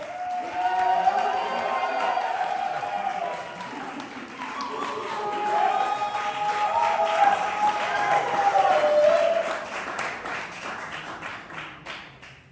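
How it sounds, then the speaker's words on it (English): Audience applause and cheering fill a room at the 2023 ATL Spring Fling poetry slam, a sustained clapping wash with whoops, building and fading under an announcer's amplified voice. "Keep that applause going for your next quote on the mic"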